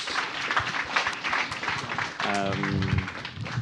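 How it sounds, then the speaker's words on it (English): An audience at a forum on internet freedom and human rights applauds three speakers, a continuous patter of clapping from a crowd, with a brief voice cutting through near the end. "please give applause to the three great speakers"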